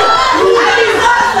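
A school group at a Kenyan band event in Kerugoya shouts and cheers loudly together in one continuous, close-up roar of voices.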